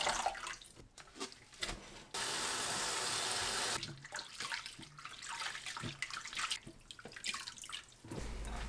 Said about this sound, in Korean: 불린 미역을 조물조물 씻어주세요.